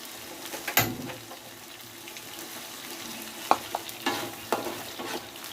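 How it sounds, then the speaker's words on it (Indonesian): Anchovies frying in a little cooking oil on a home stove, a quiet steady sizzle broken by several sharp stirring scrapes and clinks, with some running-water sounds in the background. "saya akan masak goreng terinya ya Bun ya"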